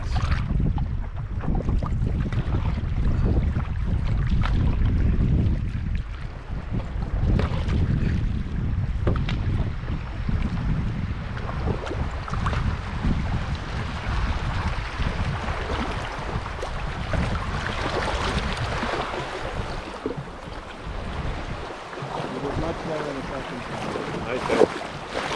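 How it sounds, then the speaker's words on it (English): A canoe runs down a small set of river rapids in the Wabakimi wilderness, rushing, churning water and gusty wind noise roaring continuously before easing into a calmer wash. "Now here we go down the same set of small"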